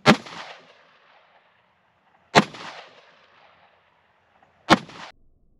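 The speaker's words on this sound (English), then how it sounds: "Okay, so first up, I'll be shooting the three FMJs." Three single gunshots fire FMJ rounds into ballistic gel, each a sharp loud crack followed by a short decaying echo, spaced about two seconds apart with quiet between them.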